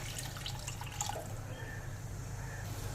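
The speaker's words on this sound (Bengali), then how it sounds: "এবার দিয়ে দেবো ঝোলের জন্য বেশ কিছুটা জল" Water pours steadily into a simmering Bengali bhola fish curry to make the gravy, a continuous close wash with faint dripping and no voices.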